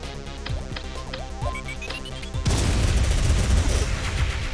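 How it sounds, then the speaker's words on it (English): Super Missile fired in the Metroid 2 remake, a sudden loud blast that cuts in midway and roars on with heavy booming, preceded by quieter game music and chiming effects. "Super missile, yes."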